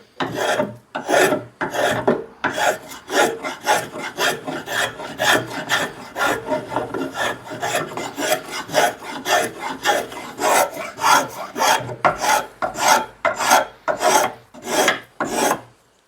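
Stanley Model 51 spokeshave taking heavy shavings from wood, a loud close rasping stroke repeated in a steady rhythm about twice per second, each pass a short scraping burst with brief gaps between.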